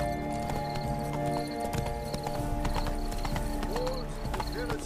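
Horse hooves galloping in The Witcher 3: Blood and Wine, a fast, steady clip-clop under layered game ambience with occasional whinnying, loud and continuous.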